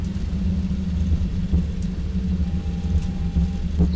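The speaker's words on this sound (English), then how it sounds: "Thrust reversers engaged." Thrust reversers roar on a Boeing 737-800 landing in the X-Plane 11 flight simulator, giving a steady, heavy, low engine rumble that holds evenly throughout.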